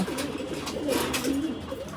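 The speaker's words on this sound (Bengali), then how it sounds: "আমার সুস্থ কবুতরটা" A pigeon cooing in a low, repeated, throaty rhythm, heard close over a faint steady background hiss.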